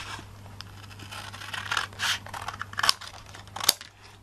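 Scissors cutting through folded card for a bellows-style greeting card, a run of close, crisp snips and scraping blade sounds with a few sharper cuts near the end.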